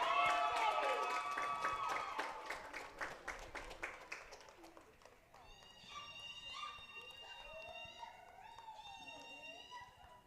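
A softball crowd claps and cheers for player Jada Bradford, fairly faint and distant, while an announcer's amplified voice carries over the applause.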